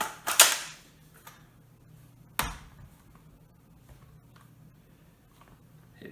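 Metallic clacks as a 10-round magazine is seated into a rifle, with a sharp snap at the start followed by a second solid click, both close and followed by faint handling noise.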